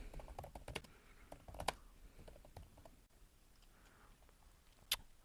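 Quiet bursts of typing on a computer keyboard, quick clustered key clicks with brief pauses and a single sharper click near the end, heard close with no talk.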